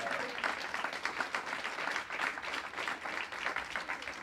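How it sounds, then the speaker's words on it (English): An audience at a ribbon cutting ceremony claps steadily, a fairly faint and even patter of many hands that runs throughout. "that in itself deserves a round of applause."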